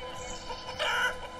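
A brief, soft cluck of a chicken in the city-builder game Banished rises over a quiet background hum, a single short call near the middle.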